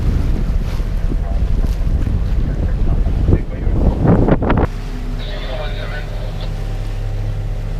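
A sailboat under way on the open ocean after crossing the Sir Francis Drake Channel, with loud wind buffeting the microphone and rushing water; the gusts swell before a calmer, steadier stretch of hull and wave noise.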